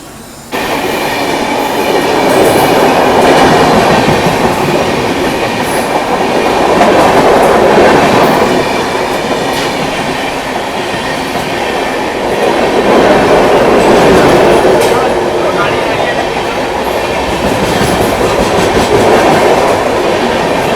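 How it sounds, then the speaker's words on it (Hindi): The Nizamuddin–Pune Duronto Express passing on the main line at Mathura station, a loud steady roar of rolling wheels with rhythmic clickety-clack and faint squeals, heard from a train standing alongside, with no voices. "अभी देखो बगल से ये मेन लाइन से स्किप करके जा रही है मथुरा अपनी दुरंतो एक्सप्रेस, निजामुद्दीन पुणे दुरंतो।"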